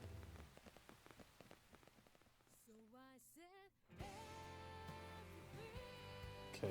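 Rain falls in Xenoblade Chronicles X: Definitive Edition, a soft steady patter beneath game sounds, with character voices partway through and then music swelling over it.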